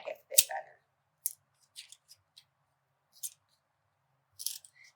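Scissors snip off the overhanging ends of material on the back of an animal portrait artwork, giving a few sharp, close, separate cuts with short quiet gaps between them.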